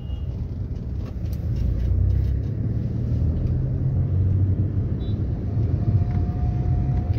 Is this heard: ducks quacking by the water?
no